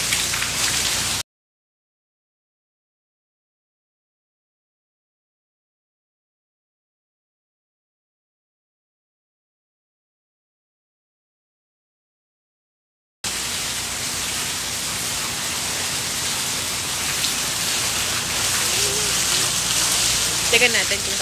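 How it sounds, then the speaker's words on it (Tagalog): Heavy rain falling as a dense, steady hiss of drops on surfaces. It is loud and constant at the start, then cuts out to silence, and returns just as strong for the last several seconds. "Oo, medyo malakas yung ulan ngayon."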